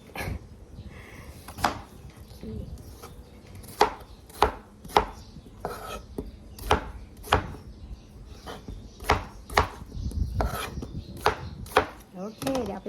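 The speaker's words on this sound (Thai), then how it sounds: "ปอกเปลือกนะคะ แล้วก็ หั่นเป็นชิ้นนแล้ว" Peeled potatoes being chopped into pieces with a knife on a board, a run of about twenty sharp, close, irregular knocks with brief pauses between them, set against outdoor background noise.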